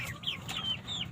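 Broiler chickens cluck in their coop, several short high chirping calls in quick succession over a low, steady background rumble, close by.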